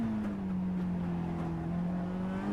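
A Mazda MX-5 Miata in the iRacing simulator at Winton Motor Raceway, its engine holding a steady high drone through corners, the pitch dipping slightly then rising again, close and continuous.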